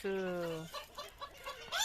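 A Pekin cuckoo bantam hen clucks close by in a few short, drawn-out calls, followed by softer broken clucks and a rising final call.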